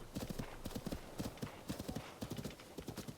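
A horse gallops in Zelda: Tears of the Kingdom with rapid, even clip-clop hoofbeats in quick rhythmic bursts, close and clear with no other sound.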